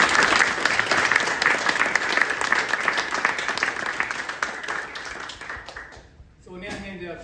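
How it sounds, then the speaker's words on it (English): An audience at a Defence Force enlistment oath ceremony claps to welcome new soldiers, a dense, sustained round of applause that fades out near the end before a voice begins speaking. "please join me in a round of applause as we welcome our newest soldiers"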